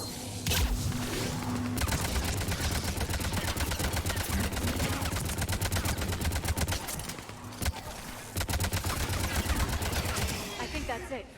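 Sustained automatic assault rifle fire from the video game Mass Effect 3 rattles in rapid bursts, loud and close. A couple of brief pauses break the streams of shots.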